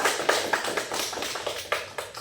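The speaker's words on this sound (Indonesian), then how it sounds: "Beri tepuk tangan anak-anak untuk Reza" Children in a microteaching classroom clap together, a soft, dense patter of many small hands with a few sharper claps standing out, fairly distant and without talk.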